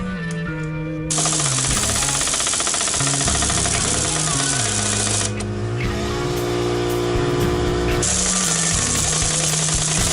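A pneumatic impact wrench strains to press an old factory U-joint out of a 1997 Chevy S10 driveshaft, hammering loudly and steadily for about ten seconds. Its rapid rattle shifts pitch as it loads up and briefly eases, with no talking.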